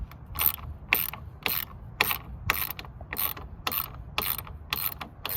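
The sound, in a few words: removing Ford Bronco roof rack bolts with provided kit tool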